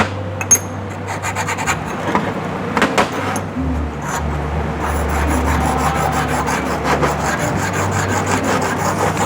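A small 4L60E automatic transmission plate from a 2001 Firebird being lapped by hand on a sharpening stone, giving steady rough rasping strokes close by, with scattered metallic clicks and no talking.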